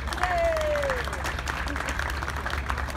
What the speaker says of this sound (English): a round of applause for shipping your car over to the Concours all the way from the United States of America